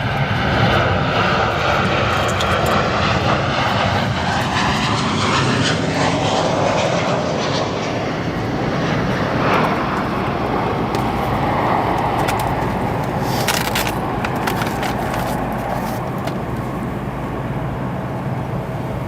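A United Airlines Boeing 737 lands on runway 10 center at O'Hare with a loud, sustained engine roar. A whining tone sweeps downward as it passes, and the noise stays strong through the touchdown.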